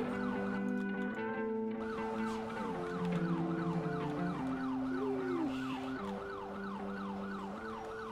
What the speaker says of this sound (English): We had siren check, please